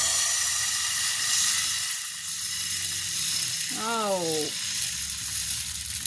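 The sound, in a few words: dosa batter poured onto hot pan, sizzling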